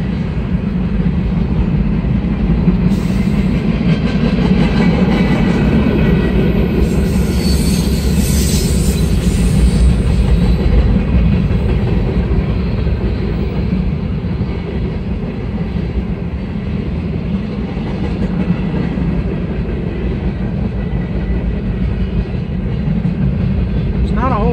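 A long Norfolk Southern freight train, NS 200, rumbles past steadily with clattering wheels and a brief high squeal of metal, loud and continuous throughout.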